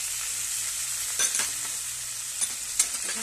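Vegetables frying in oil for upma, with curry leaves, chillies, onion, peas and carrot in the pan, give a steady close sizzle throughout, broken by a few brief scrapes of stirring and no voices.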